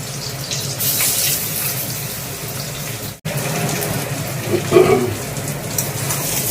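Boiled pieces of young jackfruit frying in hot oil in a pan, a steady broadband sizzle that runs continuously with a brief dip partway through and a slight swell near the end.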